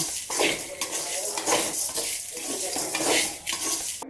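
A spoon scrapes and stirs roasting vegetables and toor dal with salt in a pan for coriander chutney, with steady clinking and rustling against metal and a faint sizzle underneath.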